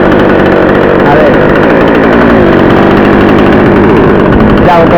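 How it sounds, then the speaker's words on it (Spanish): A chainsaw runs steadily while a carob tree is pruned at height, its loud, close, continuous engine drone filling the clip without letup. "la motosierra en el sitio"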